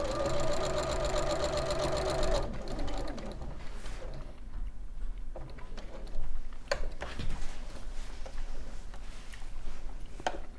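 A domestic sewing machine stitches a small hexagon quilt, a fast even mechanical chatter at first, then pauses into softer ticks, fabric shuffling and handling noises.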